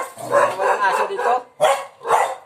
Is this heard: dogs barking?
yes